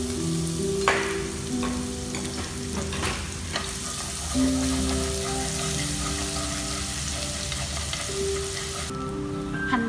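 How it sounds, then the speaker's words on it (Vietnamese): Minced shallots hitting hot cooking oil in a pot give a steady sizzle and frying crackle across the whole stretch, close and fairly loud, with a few utensil clinks and stirring scrapes and no talking. "Dầu sôi rồi mình sẽ cho hành tím băm nhuyễn vào nha."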